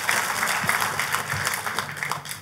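A church congregation breaks into lively applause, a dense, even patter of many hands clapping close by that holds steady throughout with a faint murmur beneath.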